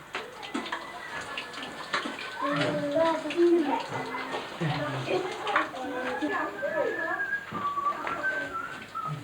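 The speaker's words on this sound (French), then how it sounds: "C'est de l'eau de la douche." Shower water runs steadily in the background throughout, largely masked by voices, including a child's, and some whistle-like tones over the spray.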